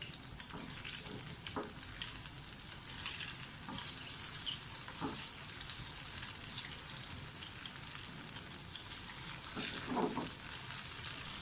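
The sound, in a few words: whole chilies frying in hot oil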